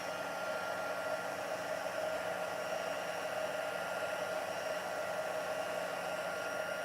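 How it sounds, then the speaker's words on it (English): A heat tool blows hot air to melt embossing powder on a card, producing a constant, even whirring hiss that stays steady throughout with no voices. "So I've got my heat tool. I'm just going to pop it on and melt that powder."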